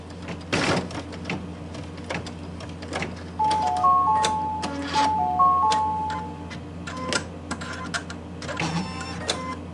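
A home embroidery machine stitching through fabric and batting in a hoop, a steady mechanical whir with shifting tones and intermittent clicks and beeps, close and fairly loud for about ten seconds.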